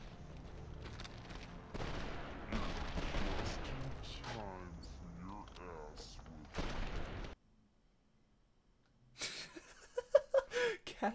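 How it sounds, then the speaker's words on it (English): Hunting shotgun blasts in Fallout New Vegas ring out in a cluster of sharp bursts mixed with voices and laughter, then a pause of near silence before more loud cracks. "Close range hunting shotgun."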